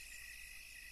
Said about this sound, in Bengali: নদীর পার থেকে ভেসে আসছে ঝিঝি পোকা আর শেয়ালের ডাক।